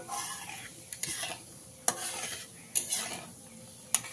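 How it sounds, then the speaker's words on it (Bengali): Nigella seeds and dried red chili frying in hot oil in a pan, with a steady soft sizzle and several sharp scrapes and clinks of a spoon stirring against the pan, close and without voices. "কালো জিরে আর শুকনো লঙ্কাটাকে ততক্ষণ ভেজে নিতে হবে"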